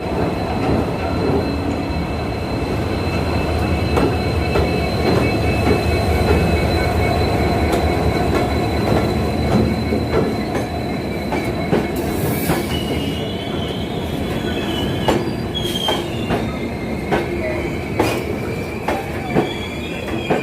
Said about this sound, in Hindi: सो दोस्तों ये जो ट्रेन है ये है कन्याकुमारी डिब्रूगढ़ सुपरफास्ट स्पेशल।